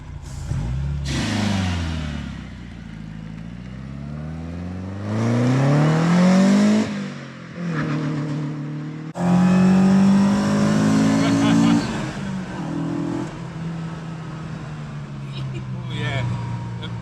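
A Zetec-engined Mk2 Ford Escort revs hard on the move, its engine note climbing and dropping through the gears from inside the car, while someone talks over it.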